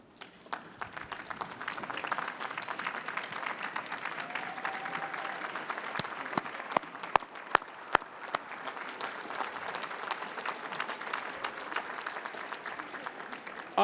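Large crowd applauding at a university commencement ceremony, a sustained wash of clapping across the whole stretch with a few sharp close claps standing out, steady and moderately distant.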